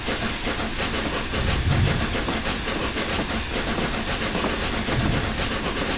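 A steam locomotive's sander hisses loudly and steadily in a RailWorks train simulator game with the Flying Scotsman, a continuous broadband rush with faint low rumbles under it and no talking.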